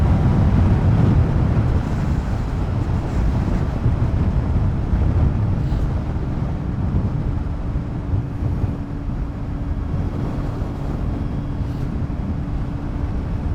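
Heavy buffeting wind roar against the rider while riding a 2012 Suzuki GSR750A motorcycle without a windscreen, a continuous loud low rumble that eases slightly over time, with no talk.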